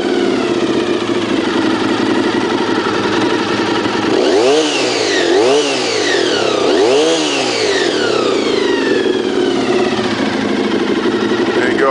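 A 1996 Honda RVF 400R NC35 V4 motorcycle with gear-driven overhead cams starts cold and idles slowly; a steady buzzing idle is broken by a couple of sharp revs midway before settling back.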